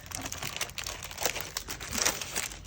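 Plastic wrapping on a PhotoPlay scrapbooking card kit crinkles and crackles continuously as it is opened, a close, busy rustle with small tearing bursts throughout.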